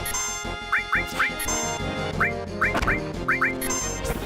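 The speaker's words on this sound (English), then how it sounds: "Hello, birds." Video game birds in Final Fantasy 7: New Threat give a series of quacking, duck-like calls in short bursts over steady game music, with no talking.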